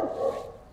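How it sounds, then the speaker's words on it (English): A single short, close dog bark from a rescued, previously starved Staffordshire bull terrier, loud and clipped, with no talking. "When dogs bark, basically they're just saying, I want you to put more distance between yourself and myself."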